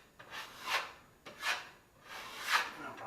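Sandpaper scraped by hand over dried drywall joint compound in three slow, separate swipes, each a soft rising-and-fading rasp, close and quiet with nothing else heard.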